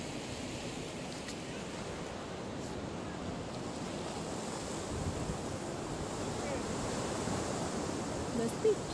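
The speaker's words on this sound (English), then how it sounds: "Waves are pretty rough, and there's all the surfers." Rough ocean surf at Big Wave Bay, Hong Kong, rumbles and hisses in a continuous heavy wash, with wind buffeting the microphone and the breaking water swelling slightly near the end.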